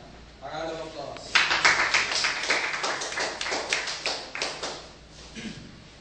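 Applause for a scout receiving an award at a summer training ceremony: a short burst of many hands clapping at moderate distance, rising quickly and then thinning out over several seconds.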